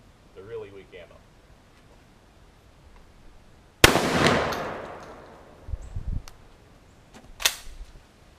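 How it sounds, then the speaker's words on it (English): An old semi-automatic shotgun firing weak ammunition in a backyard, one sharp, loud blast followed by a decaying echo, then a second shot a few seconds later, with faint talk before. "Semi-automatic shotgun, baby."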